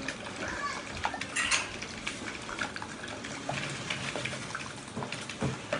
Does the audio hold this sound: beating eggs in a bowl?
yes